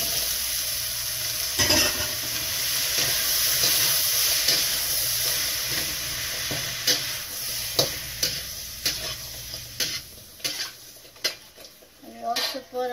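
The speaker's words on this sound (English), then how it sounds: "I think the garlic is already brown. So we can put our shrimp." Shrimp go into a pan of browned garlic and fry with a steady sizzle while utensils stir and clink against the pan, sounding close, in a chop suey dish. A person speaks briefly.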